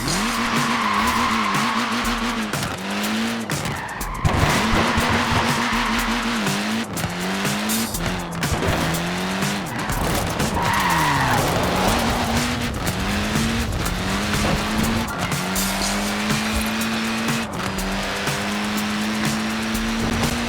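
A classic Mini in Forza Horizon 4 drives hard, its engine droning and shifting pitch throughout while the small tyres squeal and skid repeatedly, loud and continuous for about twenty seconds with no voices.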